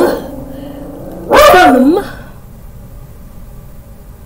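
A dog gives a single short bark or yelp, loud and close, in an otherwise quiet indoor room. Faint background noise sits before and after it.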